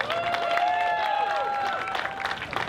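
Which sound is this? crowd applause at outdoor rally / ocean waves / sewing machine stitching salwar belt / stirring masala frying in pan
crowd applause at outdoor rally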